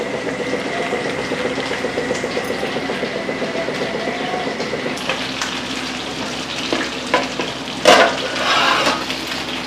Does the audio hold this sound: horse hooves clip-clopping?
no